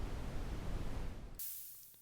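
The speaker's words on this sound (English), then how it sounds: "brown noise," Brown noise from a SynthMaster 3 synthesizer's noise oscillator: a deep, rumbling hiss heavy in the lows, ending abruptly with a brief bright burst of higher hiss that tails off.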